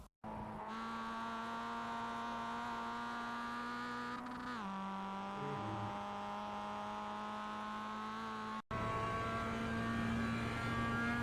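A Mazda MX-5 race car in iRacing at Oulton Park International holds a loud, steady high-revving engine drone. Its pitch dips and recovers midway, and the sound cuts out briefly before resuming near full throttle.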